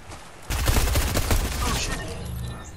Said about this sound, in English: There's somebody shooting at us here.